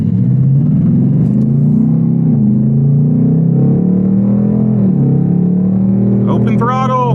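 A Ford Mustang Dark Horse's 500 hp V8 drones at open throttle from inside the car, a loud steady engine tone that rises and dips. Someone talks over it near the end.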